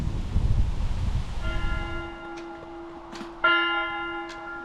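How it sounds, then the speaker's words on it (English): Church bells of St Giles Church ring out clearly after a gust of wind noise, several resonant strikes sustaining and overlapping in a calm outdoor setting. "The bells."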